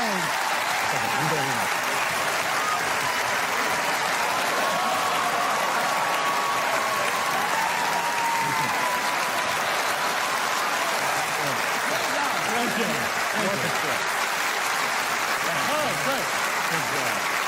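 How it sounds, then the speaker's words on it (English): Loud, dense applause and cheering from a large audience at a stand-up comedy show, a steady wash of clapping and crowd noise sustained throughout. "The crowd goes wild."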